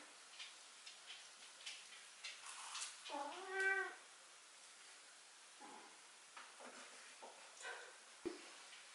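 A cat meows clearly a few times, the longest cry rising and falling in pitch, amid quiet kitchen clatter and soft ticking.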